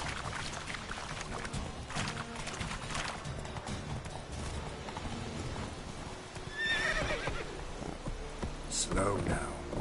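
Hoofbeats of Roach, the horse in The Witcher, clopping in a steady rhythm close by, followed by a neigh near the end and soft background ambience.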